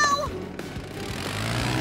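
A single short cartoon cat meow from PAW Patrol at the start, followed by a steady low background hum.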